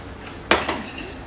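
Spaghetti is tossed and mixed in sauce in a pan, giving one sharp metallic clink of a utensil against the pan followed by a softer second scrape, close and brief.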